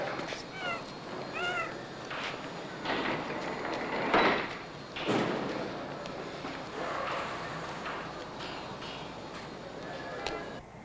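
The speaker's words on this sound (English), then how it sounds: "Get rid of that cat." A cat meows several times over a busy urban background with passing rail or door noise, while people talk nearby.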